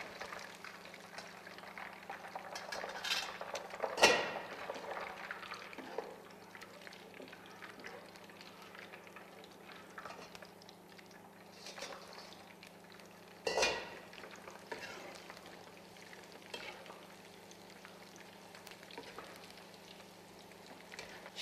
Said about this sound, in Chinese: 再升一下油温，进行第二次复炸